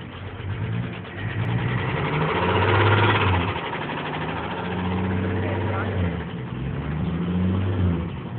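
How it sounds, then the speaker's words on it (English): A car engine runs and revs in uneven surges close by, its low throb rising and falling while people talk over it. "Rev it up."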